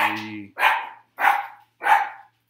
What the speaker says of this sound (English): sorry, our dogs